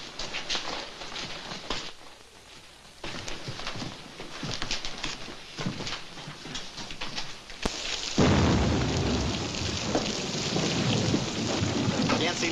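Steady heavy rain pours throughout, with low rumbling thunder in a stormy outdoor scene from a Wild West film, a thick broadband wash that swells louder toward the end; faint voices may sit beneath it.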